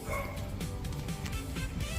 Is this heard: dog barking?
yes